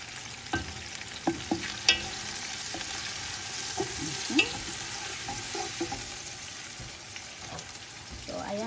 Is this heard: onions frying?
yes